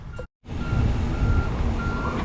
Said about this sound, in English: a step deck truck showed up with Ontario plates, and he backed to the crane